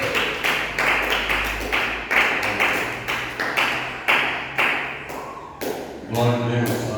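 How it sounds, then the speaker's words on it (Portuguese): A church congregation claps in praise for Jesus, loud, steady rhythmic clapping that fills the room, with a voice speaking over it and the clapping thinning out near the end. "receba do nosso pastor com as palmas para o Senhor Jesus"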